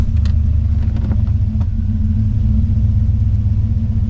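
An LS-swapped Chevy OBS truck with low hot-idle oil pressure idles steadily close by, a constant deep rumble that never lets up, with no voices.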